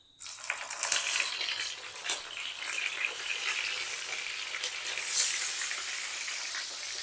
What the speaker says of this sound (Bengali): আমার তেলটা ভালোভাবে গরম হয়ে গেছে, আমি এবার এক এক করে বেগুনগুলো ছেড়ে দেব।